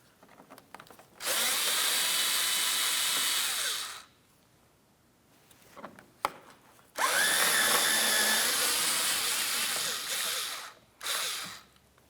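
A power tool with a 5.5 mm socket spins out the lower mounting bolts on a 2007-2014 Ford Edge fender liner near the fog lamp bezel, two long loud whirring bursts and a short third, separated by near silence.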